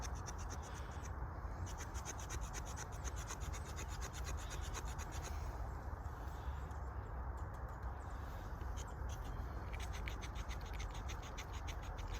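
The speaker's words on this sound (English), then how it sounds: "use the saw part, the saw teeth on this multi-tool, and you just scrape across." Saw teeth of a pocket multi-tool scraped across dry wood, a steady close rasping scratch that continues without a break, with no talk over it.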